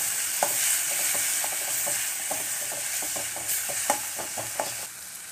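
Ginger-garlic paste sautéing in a pan, a steady sizzle punctuated by a quick, regular series of spatula taps and scrapes against the metal, up close with no voices.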